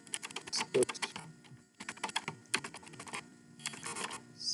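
Clusters of crisp computer keyboard keystrokes come in short bursts with brief pauses, close and clear in a quiet room, and a voice is faintly present.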